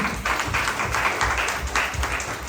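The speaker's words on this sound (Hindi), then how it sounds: "ताली बजाएं प्रभु के लिए, आमीन।" A church congregation claps together during a sermon, with dense steady applause at moderate loudness.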